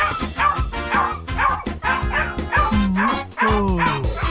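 A cartoon dog barks and yips rapidly in a front yard while chasing someone off, a loud, continuous run of excited barks and whimpery yips with growling tones.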